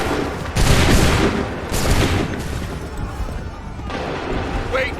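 Musket volley gunfire in the video game Assassin's Creed 3: loud, dense bursts of overlapping shots in two or three waves, with booming crackle filling the scene.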